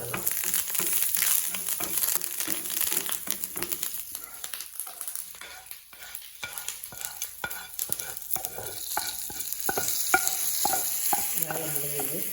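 Dried chilies, asafoetida and curry leaves sizzle in hot oil in a pan as a tempering for a ladies' finger (okra) dish, with continuous crackling and stirring scrapes close by, and no talk.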